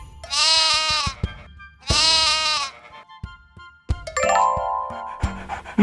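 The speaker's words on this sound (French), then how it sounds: "Le mouton." A sheep bleats twice in loud, close, wavering calls about a second each, then a short jingling chime plays alone.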